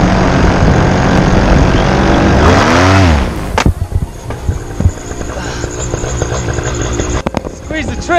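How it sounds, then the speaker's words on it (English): A paramotor engine drones loudly, then revs with a rising-then-falling whine just before a crash landing. It cuts out into thuds and scraping, with rustling and handling noise afterward. "You can actually hear the engine rev right before I impacted the ground."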